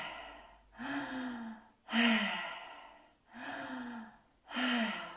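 Deep breathing exercise in slow, even cycles: four long inhales and exhales, close and clear with no talking.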